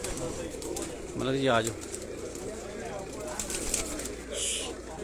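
A Shahzor pigeon on a rooftop gives a short, soft cooing call under a voice, with outdoor background noise throughout.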